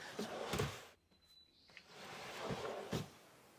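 Drawers sliding open and shut in a small self-built tiny house, a few close wooden rumbles and soft thuds spread over a few seconds, with a quiet pause in the middle.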